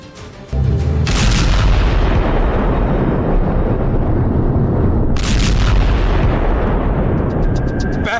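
Missile strikes on the Gaza Strip: a dense, continuous rumble of heavy booms and blasts, loud and sustained throughout, with sharper bursts breaking through.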